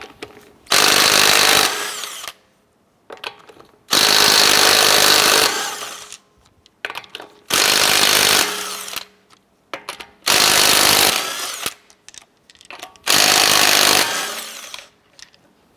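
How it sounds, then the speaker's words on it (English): An impact wrench with a 19mm socket spins off the lug nuts on a 2004-2008 Acura TL front wheel, five loud, rattling bursts of about two seconds each, separated by short quiet gaps. "Using a 19mm socket, let's go ahead and remove our lug nuts"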